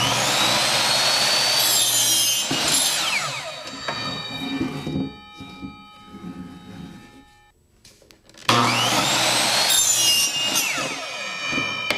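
A power saw cuts a wooden frame board at 45 degrees, heard as a loud, close whining cut that fades to quiet and then starts again abruptly.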